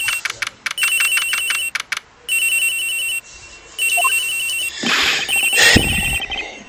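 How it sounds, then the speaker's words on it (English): In the Ace Attorney Investigations video game, a cell phone rings in repeated electronic bursts over a rapid clatter of text-blip clicks, with a louder noisy swoosh effect near the end. "So it's ringing."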